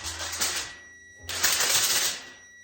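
Industrial aluminium foil being handled in a home kitchen, two bursts of crisp crinkling and rustling close by, separated by a short quiet pause.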